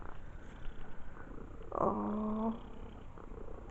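A pet cat's purr rises for under a second in a quiet indoor room, a steady buzzy hum beneath a brief spoken exclamation.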